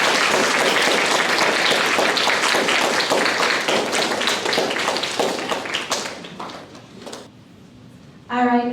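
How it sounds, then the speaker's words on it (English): Loud sustained applause and clapping from a graduation ceremony audience, dense and continuous for about six seconds before thinning out and fading, with a voice starting up near the end. "Give her a round of applause."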